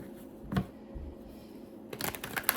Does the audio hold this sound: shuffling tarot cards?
yes